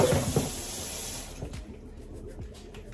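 Running water rinses a cleaned fish head with a splash of vinegar, a steady close tap flow for over a second, then softer splashing and dripping.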